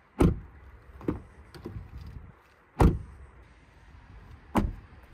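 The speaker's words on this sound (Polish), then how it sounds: "posłuchajmy jeszcze dźwięku zamykanych drzwi" Kia ProCeed GT Line (2023 facelift) doors shut three times, each a loud, solid low thump with a sharp onset, spaced a second or more apart, with a few fainter clicks and rustles between.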